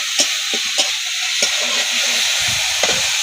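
Dried-fish masala frying in a pan with steady sizzle and hiss, while a spoon scrapes and stirs it in several distinct strokes, close and fairly loud.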